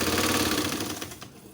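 Sewing machine running a stitch along soft cotton piping on a baby's nightie, a steady close mechanical whir with fast rhythmic ticking that slows and trails off near the end.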